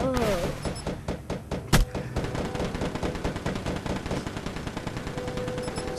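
Call of Duty gunfire: rapid repeated shots and bursts fill the mix, with one loud sharp blast near the two-second mark, under a lively game soundscape.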